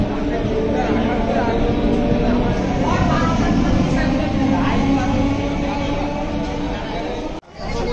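Steady rumble of a crowded train at a Ranaghat-line station, with constant crowd chatter and voices layered over the low mechanical noise, which drops out abruptly near the end.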